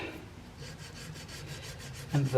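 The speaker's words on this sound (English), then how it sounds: "now it's going back and starting to clean them up with some sandpaper" 180 grit sandpaper rubs along the flutes of a 13th century style Templar dagger handle in steady, even back-and-forth strokes. The rasping is close and fairly quiet, with a slightly louder scrape at the end and no talking.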